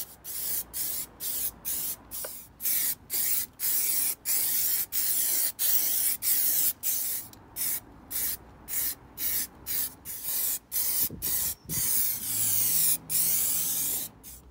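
Anti-gravel coating is sprayed onto a car body around the front wing base in repeated short bursts, each a loud close hiss separated by brief pauses, with a few faint handling noises between passes.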